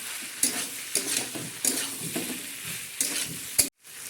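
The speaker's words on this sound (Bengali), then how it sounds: "সবজিগুলো আমার ভালো করে ভাজা হয়ে গেছে" Vegetables frying and being stirred in a pan during sambar dal preparation, a steady sizzle broken by repeated scraping stirs, fairly close, ending in a brief silence.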